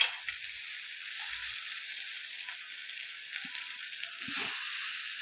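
Poha stirred into a pan of fried onion with turmeric and coriander, giving a steady soft sizzle with a few scraping stir strokes and a brief clatter near the end, no voices.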